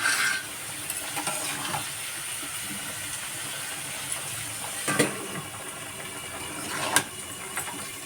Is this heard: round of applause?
no